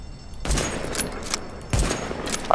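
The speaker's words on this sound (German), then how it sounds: "War das ein Schuss? Ja." Gunfire from a precision weapon in the video game The Division, two sharp booming shots about a second apart over steady game ambience, fairly loud and close with no talking.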